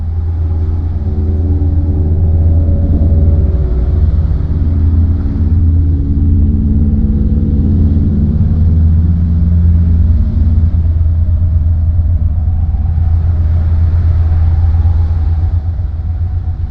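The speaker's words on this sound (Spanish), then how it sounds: "con cientos de camiones, carros blindados, ambulancias, vehículos transportando tropas" Heavy military trucks and armoured vehicles crowd a river crossing, a steady low engine rumble droning throughout with occasional shifts as units move, loud and continuous with no voices.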